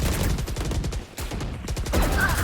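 Rapid gunfire from the Valorant video game during a college esports match, a dense burst of repeated shots in quick rhythm, loud and close, with a brief lull mid-way before the firing resumes.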